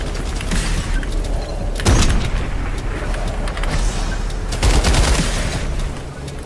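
Gunfire in the battle-royale shooter Farlight 84: dense bursts of rapid shots with loud cracks near 2 and 5 seconds over a continuous busy game din, with no clear speech.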